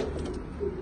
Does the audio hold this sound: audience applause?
no